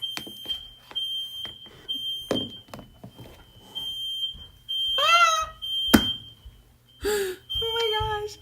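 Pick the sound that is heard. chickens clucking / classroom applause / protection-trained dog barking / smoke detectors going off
smoke detectors going off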